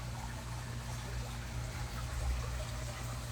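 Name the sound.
flowing water in a quiet green place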